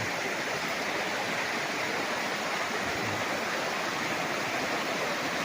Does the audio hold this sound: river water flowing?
yes